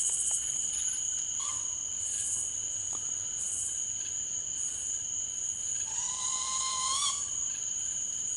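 High, thin chirping calls of a southern flying squirrel repeat over a constant insect-like whine in quiet woods at night, with a longer rising squeak near the end.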